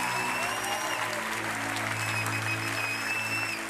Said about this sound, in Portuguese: Pode dar uma salva de palmas para esse cara.